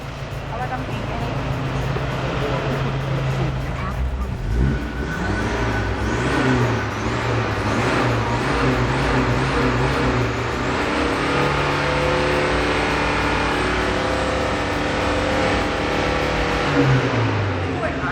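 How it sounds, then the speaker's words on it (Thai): Car engine being revved to around four to five thousand rpm during a detox treatment for black exhaust smoke, a loud, sustained, rising and falling roar close by, with voices talking over it. "อันนี้ห้าพันรอบนะนี่เบิ้ลสี่ห้าพันรอบแล้วนะ"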